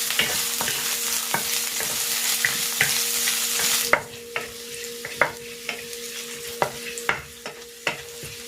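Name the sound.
sautéing ginger and garlic in cooking oil in a pan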